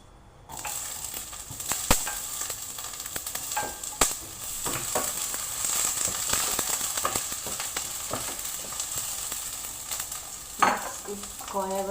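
Carrots frying in a hot pan with onion, garlic and chili pepper, a steady sizzle running throughout with scattered clicks and scrapes of stirring, a louder clatter near the end.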